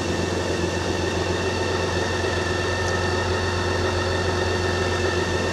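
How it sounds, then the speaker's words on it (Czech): A BMW K 1600 GT six-cylinder motorcycle engine idles close by, a smooth continuous rumble with even vibration and no change in pitch throughout. "takže takhle ten motor si krásně přede"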